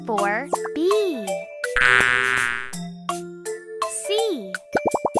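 A cartoonish bee buzz rises in a sustained, close, bright drone from an animal alphabet learning game. Bouncy plops and chimes sit before and after it, and a child-like voice speaks around it.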